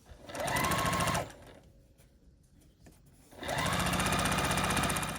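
Sewing machine piecing a quilt block: two loud, steady bursts of fast mechanical whirring and stitching, separated by a short quiet pause, close up.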